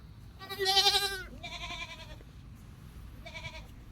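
A goat from a small herd bleats three times at close range, a long loud wavering call followed by two shorter ones, with quiet farmyard background and no talk.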